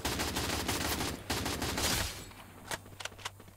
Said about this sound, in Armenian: Այդ դու էիր կրակում